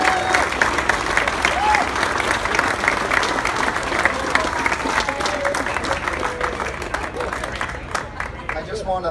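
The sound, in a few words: crowd applause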